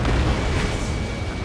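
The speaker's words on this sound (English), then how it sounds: "Missile hit." Missile striking its target in the jet combat game Ace Combat 7, a sustained, loud explosive roar with dense rumbling low end that fills the whole moment without any pause.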